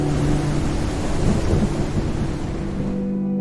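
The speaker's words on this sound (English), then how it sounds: "It can go from a calm, clear day to a wild storm." Steady, loud rain pours down while deep thunder rumbles continuously underneath in the Unreal Engine 5 game Outbreak Island, a dense storm roar with no voices.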